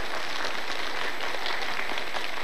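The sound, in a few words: audience applauding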